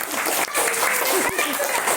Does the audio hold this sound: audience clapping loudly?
yes